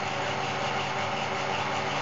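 Fehlmann Picomax 50 CNC spindle motor running at 675 RPM, a steady even machine drone with a low hum, constant throughout and moderately loud.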